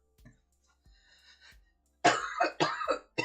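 A person coughs: a few faint throat sounds first, then three loud, harsh coughs in quick succession, close and alone.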